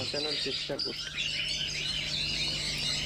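Baby birds chirp being fed: high, rapid tweets and calls come close up, with a steady low hum beneath and a person speaking briefly near the start.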